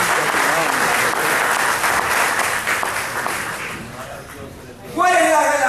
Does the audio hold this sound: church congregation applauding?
yes